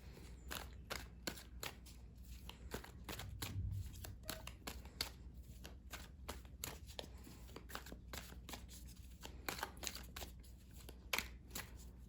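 Tarot cards are shuffled and drawn in quick, crisp riffles and snaps, close and fairly quiet, repeating steadily with no talking.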